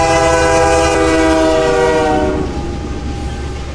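A train rolls past at close range, its sustained horn blaring loudly with rich layered tones until it drops away near the end, leaving rumbling wagon noise.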